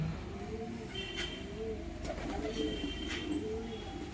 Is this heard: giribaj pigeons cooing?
yes